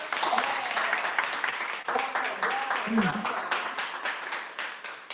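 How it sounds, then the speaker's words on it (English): An audience at an investment-strategies talk claps in a dense, steady patter across the whole stretch, mixed with voices talking over it. "Can we get a hand clap for our speaker?"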